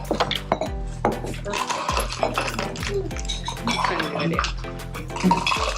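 A cocktail shaker's frothy rum drink and ice pour into a glass at a Key West rum tour class, with rattling, clinking ice cubes and splashing liquid in quick close bursts, alongside chatter.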